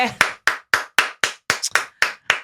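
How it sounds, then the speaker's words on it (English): Finger snaps or finger claps, nine sharp, evenly spaced snaps in a steady rhythm, close and crisp with brief silence between each. "Finger claps."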